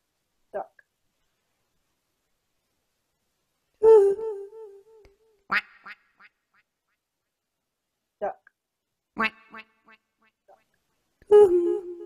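Spoken-word performance piece in which a voice imitates a duck, giving several short, sharp quacks spaced out across the clip with silence between them.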